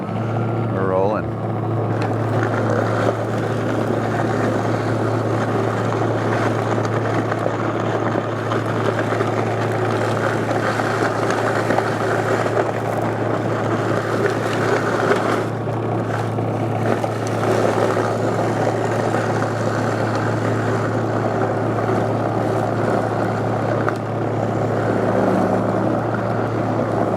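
A DeWalt 60V cordless snow blower runs continuously on its first use, a loud, steady, close motor whir that hardly changes over nearly half a minute.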